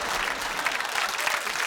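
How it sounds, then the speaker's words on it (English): The studio audience of a TV panel comedy show gives a short burst of applause, even and moderately loud throughout. "It's a worrying round of applause on the subject of our..."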